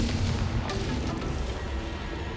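A Confringo spell explosion in the video game Hogwarts Legacy, a dense rumbling blast that fills the clip with a loud, continuous roar and a few sharper bursts, with no talk.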